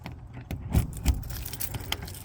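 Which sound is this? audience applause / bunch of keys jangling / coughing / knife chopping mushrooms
bunch of keys jangling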